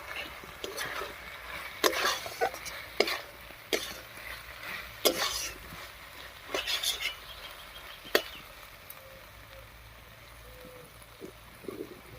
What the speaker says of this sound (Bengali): সরষে আর পোস্ত বাটা দিয়ে খুব ভালো করে কষিয়ে নিয়েছি।